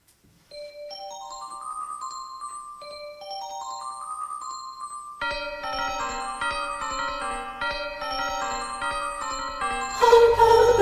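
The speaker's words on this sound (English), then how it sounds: "as we listen to Carol of the Bells" Carol of the Bells as a bright tinkling instrumental, a repeating four-note bell-like figure that climbs in layers, then a fuller, louder ensemble joins halfway and swells toward the end.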